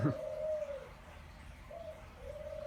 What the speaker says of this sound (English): the birds are still going to be in the background